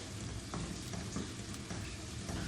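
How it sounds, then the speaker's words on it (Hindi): Onion, ginger and garlic with potatoes fry in a pan for a potato chicken dish, a steady soft sizzle with faint stirring scrapes, low and continuous with no voices. "अब इसको हम थोड़ा सा और फ्राई करके"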